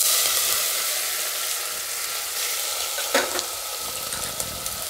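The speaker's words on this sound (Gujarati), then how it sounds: "હવે આપણે આદુ મરચાં અને લસણ એ નાખી દઉં" Ginger, green chillies and garlic dropped into hot oil already tempered with cumin, asafoetida and curry leaves, giving a loud steady sizzle with a brief burst of stirring clatter partway through and no talking.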